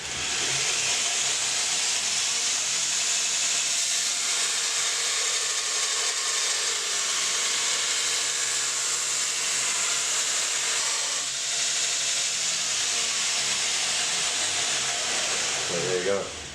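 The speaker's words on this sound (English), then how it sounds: "So I'm using these ceramic belts. This is a 50 grit belt, and they're great for removing material very," A belt grinder running a 50 grit ceramic belt grinds a knife blank, giving a loud continuous abrasive hiss and whine that shifts slightly as the steel is pressed against the belt.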